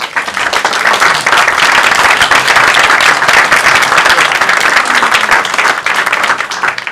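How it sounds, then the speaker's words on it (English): An audience applauds guests at a talk on touring in the USA, with loud, full clapping from many people that holds strong across the whole stretch and tapers slightly at the end. "Let's give our guests a warm round of applause."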